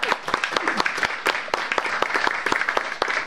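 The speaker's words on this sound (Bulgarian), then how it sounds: "аплодисменти." An audience at a journalism award ceremony breaks into lively applause, with sharp, close claps in a brisk, uneven rhythm that continues throughout.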